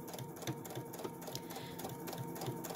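A sewing machine with a bias binder foot stitches along fabric at a steady, moderate pace, its rhythmic mechanical clatter close and continuous with no talking.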